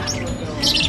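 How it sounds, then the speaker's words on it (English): A little bird gives a few brief high chirps close by, over a steady wash of indoor background noise in a toy store. "Look at the little bird."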